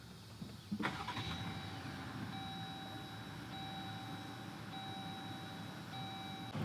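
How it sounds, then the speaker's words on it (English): A 2021 Jeep Gladiator Mojave is started by push button: a sharp cranking burst catches into a steady idle, with a thin electronic chime tone sounding repeatedly over the quiet, low-level engine hum. "Let's go ahead and start it up by holding the brake and pushing this button with the key inside the vehicle"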